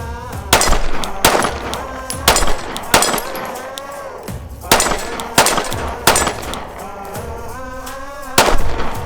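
A Glock 43 subcompact handgun fires at an outdoor range, about eight loud, sharp reports spaced roughly a second apart, each with a short ringing decay.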